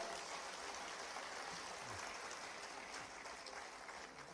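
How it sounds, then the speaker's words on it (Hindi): Dense, steady applause from a large audience at a ceremony honouring Olympic and Paralympic medal winners and Vikram awardees, a continuous wash of many hands clapping at even loudness throughout. "अपने आप के लिए भी जोरदार तालियां"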